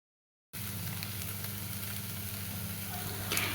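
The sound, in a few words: frying noodles in a pan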